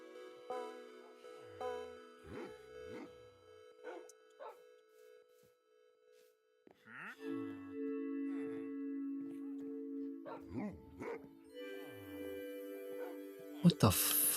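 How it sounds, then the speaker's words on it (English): Unusually low-pitched barking from a dog in Minecraft, several spaced barks with game sounds and tones around them, moderately loud. "Why is this one's bark so low?"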